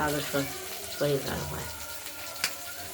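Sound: catla fish frying in oil

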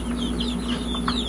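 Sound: chickens and Leghorn roosters clucking

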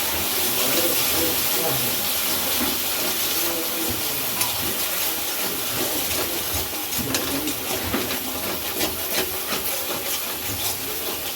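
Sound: spices with turmeric and sugar sautéing in a pan

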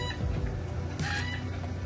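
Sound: rooster crowing

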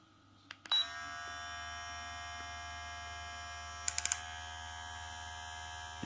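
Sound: VGR V682 hair clipper running

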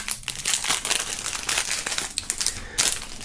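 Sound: crinkling plastic foil wrapping being handled

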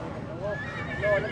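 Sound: mare neighing at a horse market

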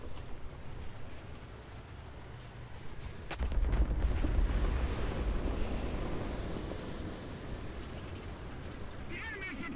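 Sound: enemy artillery barrage in War Thunder video game

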